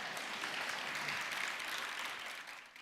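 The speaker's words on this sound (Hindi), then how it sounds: "सही है तो ढंग से ताली बजा।" An audience at a spiritual discourse in Nandgaon, Maharashtra, applauds in a dense, even wash of many hands clapping at once, fairly soft and distant, easing off slightly at the end.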